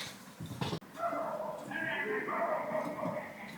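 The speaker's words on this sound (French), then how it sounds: "il y a un chien qui aboie" A dog barks and yips somewhere nearby, partly masked by someone talking over it throughout.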